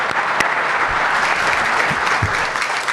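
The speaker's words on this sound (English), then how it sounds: "A round of applause from the house as Chris Miller concludes the introductory p" Steady applause from an audience at a Washington Wizards press conference fills the room, dense and continuous with a few sharper claps standing out, no voices over it.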